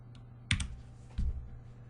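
Keys are pressed on a computer keyboard while running a program in Visual Studio, giving a few quiet, close clicks with a short pause between them.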